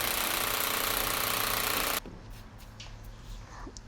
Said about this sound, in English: So we will make two holes on the floor by using the heat drill.